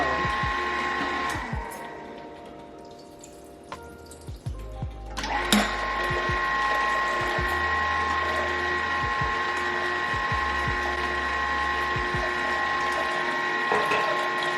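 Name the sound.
juicer running, making blueberry and coconut water juice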